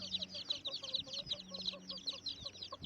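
Farmyard hens with small chicks cluck in a busy, continuous chatter of short repeated calls, fairly close and moderately soft, with no talking.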